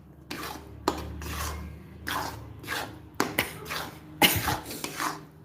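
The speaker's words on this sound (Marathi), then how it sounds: "चांगलं कमी गॅसवरच परतवत राहायचं आहे आपल्याला एक सारखं असं एक सारखं परतत राहिलं ना म्हणजे मग चिटकत नाही" A jaggery mixture for gul papdi is stirred in a pan over a low flame, producing repeated scraping and rubbing strokes at an uneven rhythm, close and moderately loud.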